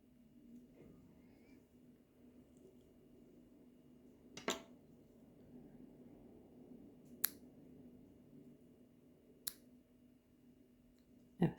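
Scissors snipping thread during Turkish needle lace work, a few sharp, isolated clicks spaced several seconds apart over a quiet room hum, close and crisp, with no talk.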